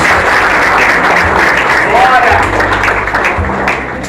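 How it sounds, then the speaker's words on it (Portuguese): Congregation clapping at a church service, a steady loud wash of applause throughout, with a voice speaking over it. "Dê uma salva de palmas em nome de Jesus."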